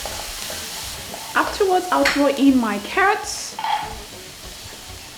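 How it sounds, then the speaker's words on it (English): Minced garlic sizzles and is stirred in a hot wok at high heat for Chinese fried rice, a steady frying hiss with scraping stirs beneath a person talking close by. "Next, I'm going to throw in my minced garlic. This is Asian cooking. There is no Asian cooking without garlic. I'll keep stir frying."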